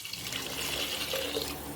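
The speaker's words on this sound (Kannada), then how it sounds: "ಒಂದು ಲೋಟ ಬನ್ಸಿ ರವೆಗೆ ನಾನು ಮೂರು ಲೋಟ ನೀರು ಹಾಕ್ತಾಯಿದ್ದೀನಿ" Water pours steadily into a pressure cooker holding bansi rava semolina for vegetable upma, a close, continuous splashing gush with no talk.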